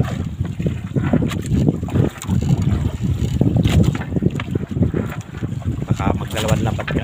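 Choppy water from strong sea waves slaps and churns against a fishing boat hull while wind buffets the microphone, with a few faint voices in the background.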